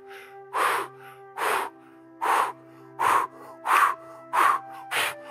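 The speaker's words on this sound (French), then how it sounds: "La respiration du feu, qui est une respiration du yoga." Rapid, forceful breath-of-fire exhales during a yoga breathing exercise: seven loud, evenly spaced bursts of breath, close and alone, with short quiet gaps between them.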